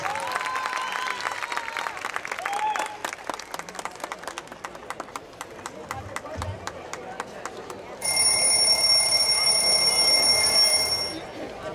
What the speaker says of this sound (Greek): Τους χειροκροτάμε δυνατά